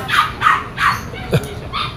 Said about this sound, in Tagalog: Umingi ang aso.